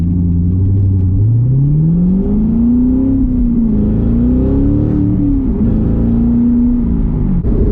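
C7 Corvette Grand Sport with an AWE Track Edition exhaust under way, a loud, steady engine drone rising in pitch as it accelerates, then holding and wavering through gear changes, close and continuous with no talk.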